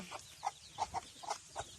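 A chicken clucks in short, repeated bursts nearby, fairly soft, with about half a dozen clucks in quick succession.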